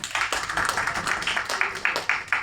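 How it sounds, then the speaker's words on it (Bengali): Audience clapping for a poet at a human rights gathering, a scattered run of hand claps with uneven rhythm and no voices over it. "একটু করতালি দিবেন না?"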